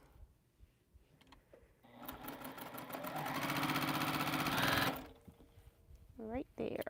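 A sewing machine runs a steady, loud stitching burst of about three seconds through quilt fabric at a live quilting session, with quieter handling sounds and a voice before and after.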